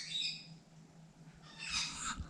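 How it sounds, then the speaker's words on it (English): Pet birds kept upstairs in a home squawk and chatter in two shrill bursts, one at the start and a louder one near the end, with a quieter stretch between and no talking. "my husband's birds are upstairs just making a whole bunch of noise"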